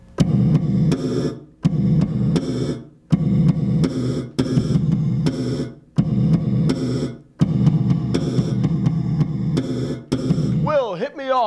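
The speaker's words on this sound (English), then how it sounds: "when you have a gated reverb or some kind of reverb" A bass guitar plays choppy repeated bursts of slapped notes, each cut off abruptly into short gaps like a gated reverb, before a brief warbling tail.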